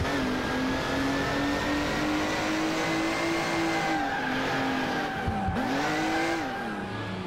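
A police Porsche in the Alarm für Cobra 11: Burning Wheels video game oversteers through a turn, its engine holding a steady loud whine as the tires squeal and skid, with a short dip in pitch near the end.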